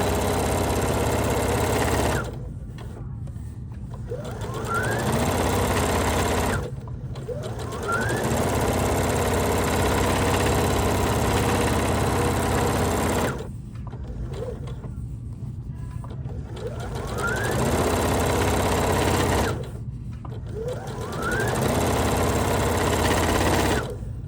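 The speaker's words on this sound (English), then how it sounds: "use the side of my presser foot and simply top stitch around this brim" A sewing machine top stitches around the brim of a quilted bucket hat, running in long steady loud bursts of rapid whirring with short pauses between each run.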